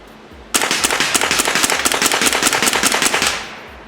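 A Hatsan Bullmaster .22 caliber air rifle fires a rapid burst of sharp, evenly spaced shots, loud and close, for about three seconds before the sound trails off.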